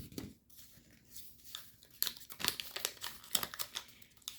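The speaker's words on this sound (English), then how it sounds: "Swivel, fold it up." Paper being folded into a Blade Fury Alpha origami model, soft close crinkles and crisp creasing rustles in short irregular bursts, quiet and alone.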